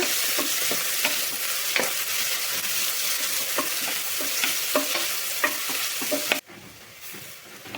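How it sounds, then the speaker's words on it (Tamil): Onions frying until brown for chicken biryani hiss in a steady, loud sizzle, punctuated by regular spoon-stirring clicks and scrapes, then cut off abruptly near the end, leaving a quieter tail. "வெங்காயம் நல்லா ப்ரௌன் கலர் ஆகிற அளவுக்கு நல்லா வணக்கிக்கோங்க"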